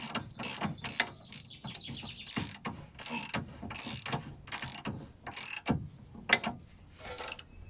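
A ratchet tightens the front wishbone bolts on a Land Rover Freelander 1, making close, crisp bursts of rapid clicking in repeated strokes with short pauses between them.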